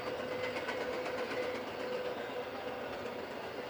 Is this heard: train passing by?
yes